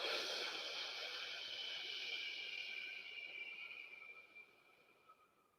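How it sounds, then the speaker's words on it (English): A slow, steady exhale through pursed lips during a guided deep-breathing exercise, a soft airy hiss lasting several seconds and fading gradually toward the end, close and alone. "Hold it and out very slowly with pursed lips."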